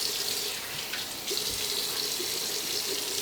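Tap water runs steadily into a sink while a beard is washed, a continuous close splashing hiss with no talking.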